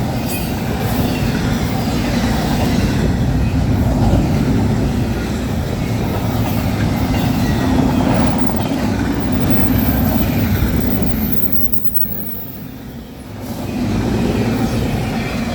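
CN freight train 149 rolls steadily past close by, a loud, sustained rumble of wagons and wheels on rail with faint squeal, easing briefly near the end as the last cars go by.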